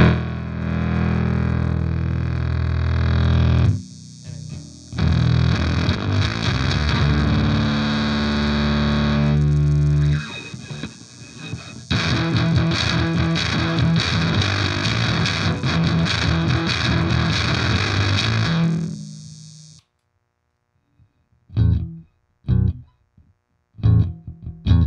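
Bass guitar played through a Catalinbread Merkin fuzz pedal turned up high gives a loud, thick, distorted tone with sustained notes and choppy riffs for about twenty seconds. A few short, sputtering fuzzed bursts follow after a pause.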